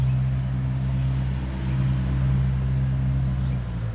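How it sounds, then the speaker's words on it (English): Mail truck driving up a residential street past a spring garden, a steady low engine rumble heard from a distance, even in level and without speech. "There goes the mail truck up the street."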